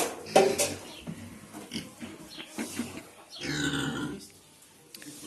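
A pig on a rural smallholding grunts in several rough, close bursts, with a longer snorting grunt near the end and quieter farmyard sounds between.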